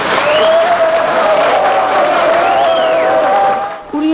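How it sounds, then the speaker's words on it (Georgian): Applause from a gathering at Hotel Tbilisi greets Tengiz Sigua's speech, a dense, steady wash of clapping that holds loud throughout and drops away just before the end. "თენგიზ სიგუას სიტყვას აპლოდისმენტებით შეხვდნენ"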